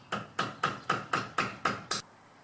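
Rubber mallet or dead blow hammer striking during a brake job, seven evenly spaced, close, solid thuds in a steady rhythm with a quiet tail after the last blow.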